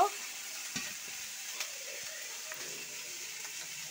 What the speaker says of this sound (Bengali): খোসাটা সিদ্ধ করে নিয়েছিলাম, এবার আমি তেলে বাদামের সাথে ভেজে নিচ্ছি